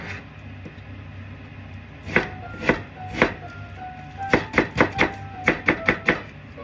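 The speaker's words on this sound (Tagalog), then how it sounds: "Kalimutan ko magkayat ng sibuyas." Fresh onion chopped on a board, a few separate knife strikes followed by quicker rhythmic bursts of chopping, close and crisp over faint background hum.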